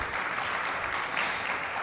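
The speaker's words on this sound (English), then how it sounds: "A round of applause to our incredible panelists." An audience at a panel on gender and the green transition applauds the panelists, a soft, diffuse patter of clapping that ends with a sudden loud burst.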